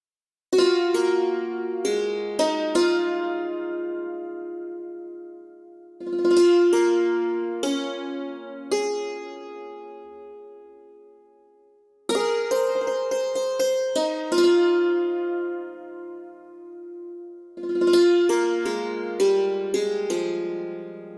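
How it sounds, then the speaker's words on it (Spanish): A struck-string dulcimer plays a plucky, ringing melody in several phrases, each note sharply attacked and quickly decaying, with short pauses between passages. "La melodía principal la lleva un dulcimer"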